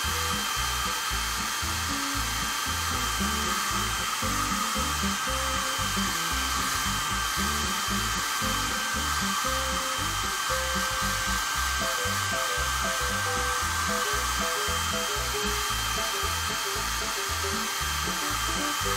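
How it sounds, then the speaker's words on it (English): A hair dryer runs continuously to dry paint on a colorful drawing, a steady loud whirring blow with a constant tonal whine, close to the microphone and unbroken for the whole stretch, with no talking over it. "Why do we need a hair dryer?"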